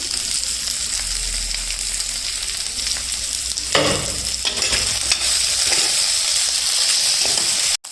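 A steady, loud sizzle of potatoes frying in a pan with green chillies, with occasional stirring scrapes and a brief burst of louder spattering midway.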